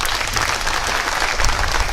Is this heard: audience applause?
yes